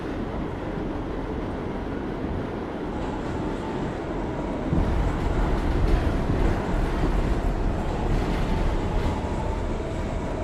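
Interior of a New York subway M train bound for Grasslands Turnpike: a steady low rumble of wheels and motors, with the noise growing louder and rougher midway through and no voices over it.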